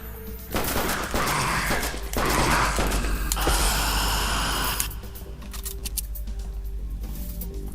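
Rapid bursts of gunfire from the zombie shooter game Everdark: Undead Apocalypse, loud and dense for several seconds, then easing into quieter mechanical rumble and scattered shots toward the end.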